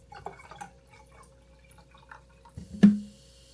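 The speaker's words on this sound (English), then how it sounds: "an herbal soda by adding some seltzer water" Seltzer water being poured into an herbal soda, a short fizzy splash and pour that swells near the end over quiet background, with no talk.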